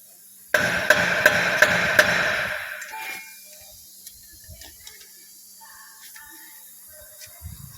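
Hammering on a Toyota 4WD front wheel hub nut to loosen it: a quick series of about six sharp metallic strikes ringing close and loud, then fading, followed by a few faint clinks of tools.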